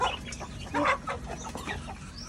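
Chickens cluck and chatter close by in a short burst of overlapping calls, some louder squawk-like notes among them, with no one speaking.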